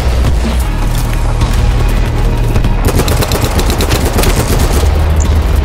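Loud, rapid automatic gunfire in the video game BattleBit Remastered rattles on almost continuously, with a tight machine-gun cadence that grows denser in the second half.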